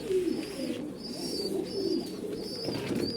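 Fancy pigeons, including Indian Lotan, coo in low, throaty repeated calls close by on a pigeon farm, with a thin high chirping tone recurring in the background and no speech.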